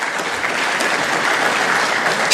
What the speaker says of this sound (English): Let's acknowledge her with a round of applause.